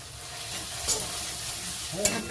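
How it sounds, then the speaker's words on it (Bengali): Ground turmeric, chili, cumin and coriander frying in a pan make a steady, close sizzle with a few soft stirring scrapes, and no one talks. "মশলাটা কষাতে হবে"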